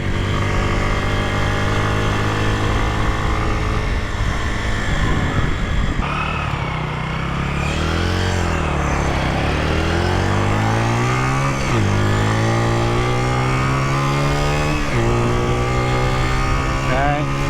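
Honda Dream 50 race replica motorcycle engine revving hard at full throttle during a speed test, a continuous loud buzzing whine rising and falling in pitch through gear changes, steady and close throughout.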